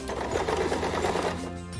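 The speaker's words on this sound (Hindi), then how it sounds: "अगर आपके पास सिलाई मशीन है तो इस तरह से हम इस पे लगाते जाएंगे।" Sewing machine stitching strips of old, torn clothes into a round rug or doormat, a steady close-up mechanical whir with a fast needle rhythm running throughout, no talking.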